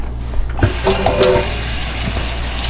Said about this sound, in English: I'm gonna rinse these with cool water and then just pick through them